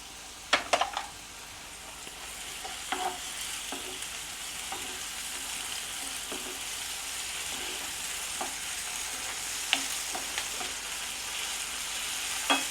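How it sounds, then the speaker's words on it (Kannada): Ginger garlic paste fries with onions in a pan, a steady quiet sizzle broken by scattered scraping stirs of a spoon against the pan. "ಒಂದು ಇಂಚಷ್ಟು ಶುಂಠಿ ಪೇಸ್ಟನ್ನು ಇದಕ್ಕೆ ಸೇರಿಸ್ತಾ ಇದ್ದೀನಿ"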